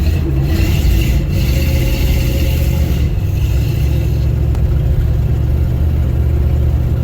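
A 1971 Plymouth Valiant's engine drones while the car drives slowly along a road, a steady, low, continuous rumble with slight rises in revs and no talking.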